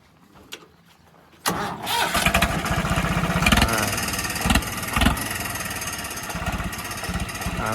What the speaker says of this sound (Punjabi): ਤੁਹਾਨੂੰ ਹੁਣ ਟਰੈਕਟਰ ਦੀ ਆਵਾਜ਼ ਦਿਖਾ ਦਿੰਨੇ ਆ